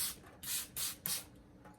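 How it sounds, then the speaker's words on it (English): A handheld spray bottle mists water onto large plant leaves such as monstera and alocasia, giving four quick, close hissing bursts in an even rhythm followed by a fainter fifth spritz in a quiet room. "I will spray the leaves"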